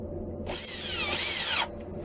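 A power drill drives a screw into wood for a whirligig, one short close burst of whining motor that rises and then falls in pitch over about a second before stopping, with no talk.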